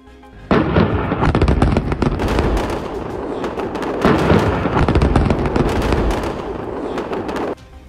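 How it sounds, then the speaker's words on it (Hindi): Israeli air strikes on Beirut set off a rapid, continuous run of loud crackling blasts and booms that lasts several seconds before stopping abruptly. "पहले एक छोटा धमाका होता है और इसके बाद लगातार बेरूत में कई बड़े धमाके होते हैं"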